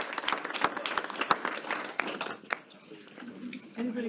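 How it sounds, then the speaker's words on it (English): Scattered clapping from an audience at a high school celebration for a state championship team, a burst of uneven hand claps that fades out as a voice begins speaking. "Can I have one more round of applause for this great group?"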